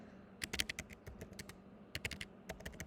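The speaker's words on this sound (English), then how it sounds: "And that's why when you type in" Fingers type on a computer keyboard in two quick clusters of sharp clicks, close and fairly faint, separated by a short pause, with no voice.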